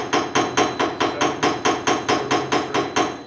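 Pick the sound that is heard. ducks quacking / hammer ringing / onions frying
hammer ringing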